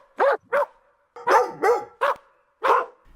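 A dog barks six times in short, sharp bursts, close and loud, with brief silent gaps between the barks.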